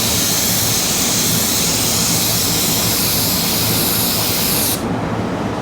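Spray gun painting a car repair panel: a loud, steady broadband hiss running continuously, then the upper hiss cuts off abruptly near the end as the spray stops, with a low hum persisting underneath.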